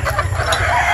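Brood stag chickens in a farm pen, with clucking and a rooster-like call over a steady low rumble of background noise.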